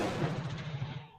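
A single booming report from a Mauser Colombian Model 1950 rifle fired at a 50-yard range, loud and close, with a rumbling tail that fades over about a second.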